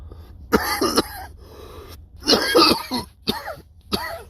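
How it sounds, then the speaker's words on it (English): Several harsh, hoarse coughs and throat-clearing bursts in quick clusters, close to the microphone with short gaps between them. "As you can see, I'm coughing up a storm here."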